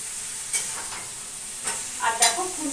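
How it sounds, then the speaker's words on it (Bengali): Jackfruit and boiled potato with spices are stirred in a hot wok with a metal spatula, giving a close, steady sizzle broken by a few sharp scraping strokes, with no voices. "মশলা দিয়ে এঁচোড় আর আলু নাড়াচাড়া করে দিচ্ছি"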